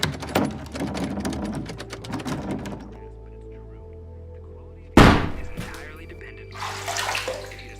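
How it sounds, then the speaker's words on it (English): Someone bangs on a locked door: a run of rapid knocking thuds over a murky background, a pause, then one heavy, loud bang followed by fainter rustling and hiss. "Isaiah starts banging on the door"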